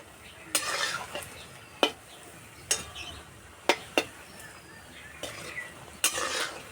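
Flattened-rice bora fry in oil over medium heat, a soft sizzle beneath repeated sharp taps and clinks of a utensil against the pan, spaced irregularly.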